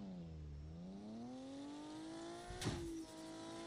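A car engine in the video game Car For Sale Simulator 2023 revs as a steady, close harmonic drone that dips and then climbs in pitch, with a brief knock partway through and no talking.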